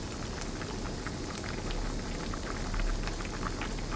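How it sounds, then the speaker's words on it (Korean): Jjimdak braised chicken bubbling hard in a pot, a steady close-up patter of popping bubbles and spattering liquid like light rain, continuous throughout with no talk. "이제 여기서 팔팔 졸여주기만 하면 돼요."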